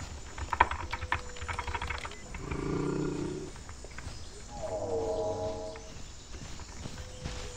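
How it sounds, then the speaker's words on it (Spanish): Dinosaur roars in the survival game The Isle, two drawn-out, moderately loud calls spaced a couple of seconds apart over clicking and thumping game noise. "No sé si esos rugidos son de ayuda o qué está pasando aquí."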